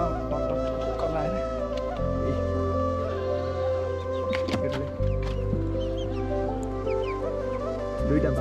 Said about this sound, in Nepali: कुखुरा सुखुरा पनि पालेर रहेछ तपाईँलाई पनि देखाउँछु